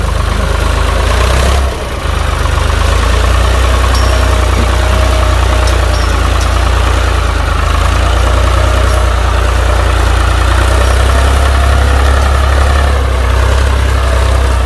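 An old Ford tractor engine runs loud and close, a steady low idling rumble with a dense mechanical drone that holds evenly throughout, with only a brief dip near two seconds.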